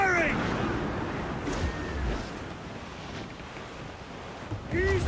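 Steady wind and rolling sea surf in the video game Assassin's Creed Black Flag, a constant broad rush with brief whistling gusts at the start and end, and voices shouting faintly over it.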